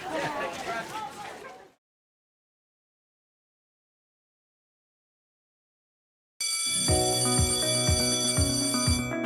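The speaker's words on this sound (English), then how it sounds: "Of course the bell rings at the" A bell at a junior high school rings in a steady metallic series of rapid repeated strikes, loud and sustained after a pause following speech.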